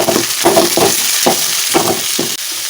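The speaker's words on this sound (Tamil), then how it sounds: "அதை வதக்கி விட்டுட்டு வெங்காயம் போட்டுடலாம். இப்போ வதக்கலாம்." Whole cinnamon, cloves, cardamom and fennel seeds sizzle in hot oil in a pan for a home-style chicken gravy, with a spoon stirring in repeated scraping strokes, close and fairly loud, no talking.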